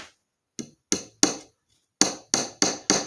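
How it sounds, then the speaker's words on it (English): Small hammer from a socket set kit driving nails into wood, with seven sharp, ringing metallic strikes in two bursts, near and loud, separated by short pauses. "I got this little rink-a-dink hammer out of a socket set kit."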